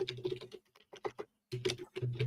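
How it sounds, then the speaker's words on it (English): Someone types on a computer keyboard during a courtroom hearing, with quick clusters of soft keystrokes broken by brief pauses over a faint low hum. "She's typing away."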